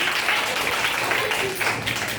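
An eighth-grade class of girls bursts into loud, sustained applause in a classroom, a dense wash of many clapping hands lasting the whole clip.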